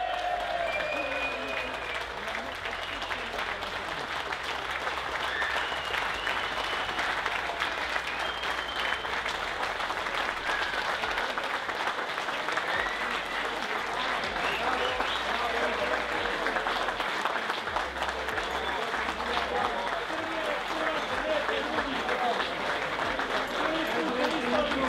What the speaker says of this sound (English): And then the winners, give them a big round of applause.